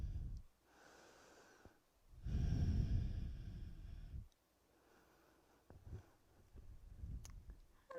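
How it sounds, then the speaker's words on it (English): Slow, deep breaths during a supine yoga twist, one soft inhale and exhale after another, close and quiet with nothing else audible. "just taking some of those nice deep breaths here"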